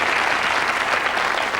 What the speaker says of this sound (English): Oh, sure you ought to clap over that.